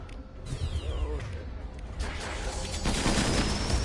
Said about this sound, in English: Can't hear voice over gunfire.